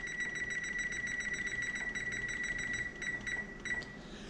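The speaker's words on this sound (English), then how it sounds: "I'm gonna set my timer" Kitchen timer being set, a steady electronic beep tone holding through most of the moment with brief breaks near the end, fairly loud and close, no talking.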